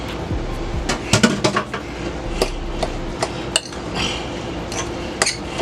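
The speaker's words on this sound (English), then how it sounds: "So we're gonna mix that up real good." Corned beef and sauerkraut being stirred in a bowl for an Irish roll, with a series of close clinks and knocks of a utensil against the dish at an uneven pace.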